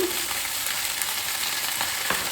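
Green chili paste frying in a pan for a vegetarian sabji, giving a steady, close hiss of sizzling oil with a few faint stirring touches and no voices.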